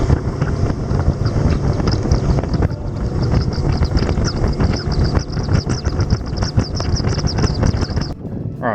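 Strong wind buffets a fishing boat out on the water, roaring loudly and unevenly into the microphone for several seconds before easing near the end, with no speech.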